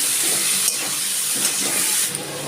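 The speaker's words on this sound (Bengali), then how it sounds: "আলুটা আস্তে আস্তে করে আলুটা একটু লাল লাল করে ভেজে নিচ্ছি" Potato pieces seasoned with salt and a little turmeric fry slowly over low heat in a pan. A steady, bright sizzle and hiss runs throughout, with faint stirring scrapes underneath and no voices.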